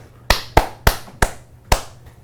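Five sharp, separate claps ring out in the room at an uneven pace, loud and close, with no talking over them.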